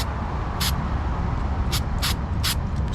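Short hissing bursts from a spray can waterproofing truck and trailer wiring, four quick sprays over a steady background rumble.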